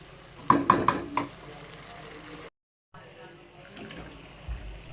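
Dried fish cooking down in a pan with plenty of tomatoes: a quick burst of close spoon scrapes and clatter against the pan, a short silent break, then a quieter, steady low sizzle.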